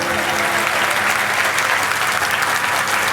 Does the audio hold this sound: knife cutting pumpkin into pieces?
no